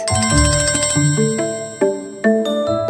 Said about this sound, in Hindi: पूरो दीदी का फोन है